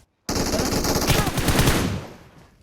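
A machine gun in the PUBG Mobile battle royale game fires one loud, sustained burst of rapid shots that lasts nearly two seconds and then cuts off, with no other sound around it.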